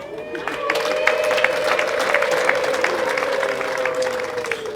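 Applause at a wedding celebration, a steady wash of clapping from the gathered guests, with a sustained tone and voices carrying faintly over it throughout.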